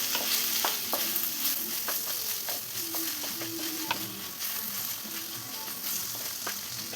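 Sliced ivy gourd (kovakka) sizzles and fries in a curry pan while being stirred, steady close crackling broken by repeated scraping stir strokes, with no talking.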